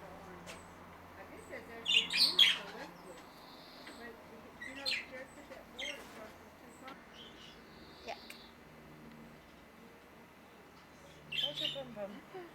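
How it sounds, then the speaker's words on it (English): Small birds in a backyard aviary chirp and tweet in short scattered bursts, fairly faint and distant, with people talking quietly in between. "John's Avery here with his birds"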